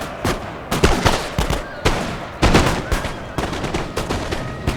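Musket volleys in a Napoleon Total War battle, repeated sharp cracks and crackling bursts of massed gunfire in irregular clusters, loud and close with brief gaps between salvos.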